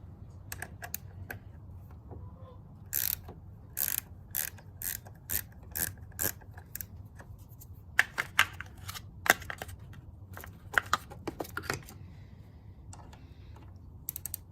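A 10 mm wrench loosening a car battery terminal on a 2003–2008 Pontiac Vibe or Toyota Matrix/Corolla, with quiet ratcheting clicks in quick bursts and short pauses between them, close and faint.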